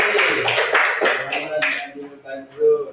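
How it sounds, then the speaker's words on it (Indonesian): A class gives a short round of applause in a school religious-education lesson: quick, crisp claps for under two seconds that thin out into scattered taps, followed by faint voices. "tepuk tangan dong"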